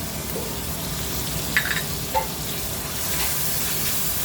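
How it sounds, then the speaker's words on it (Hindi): Steady sizzling of ginger and garlic frying in a pan, with a couple of brief clinks partway through and no voices. "अभी अदरक लहसुन डाल के उसकी कच्ची स्मेल जाने तक भूनेंगे।"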